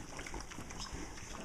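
Pigs root and dig through an old manure pack, making a dense, continuous mix of snuffling, grunting and wet squelching at close range.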